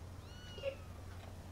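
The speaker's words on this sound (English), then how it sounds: "Sounds like a kitten, eh?" A kitten meows once, faint and brief, from a TV show, over a low steady hum with no talk.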